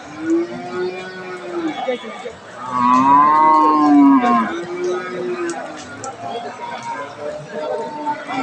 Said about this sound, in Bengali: ফ্রিজিয়ান জাতের দুধের গাভী